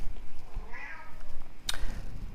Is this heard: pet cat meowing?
yes